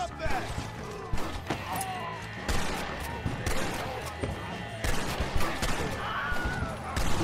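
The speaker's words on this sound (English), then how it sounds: "they're just gonna run in front of me firing a Gatling gun" Gatling gun fire in the Red Dead Redemption video game, bursts of rapid gunshots from enemies running past, heard in clustered volleys under game music and effects, with someone talking over the action.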